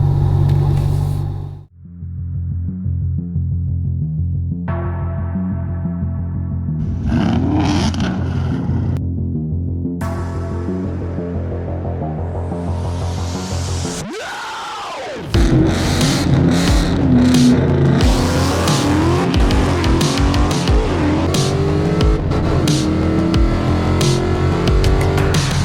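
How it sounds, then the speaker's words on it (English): A Ford GT500 drives along the road, its engine rumbling and throbbing up through the gears, with a brief drop in sound midway before the loud drone resumes over road noise. "I'm cruising down the road in the GT500"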